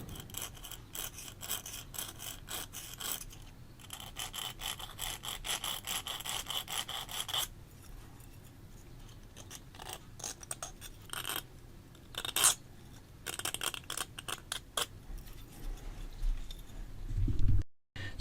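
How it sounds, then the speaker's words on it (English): A file sharpens the edges of a fishing hook in repeated quick rasping strokes, close and fairly quiet, with short pauses between bursts. "All four sides you'll have to actually sharpen to get back to that perfect sharp tip."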